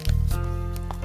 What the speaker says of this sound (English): Now we're going to take our little plastic bag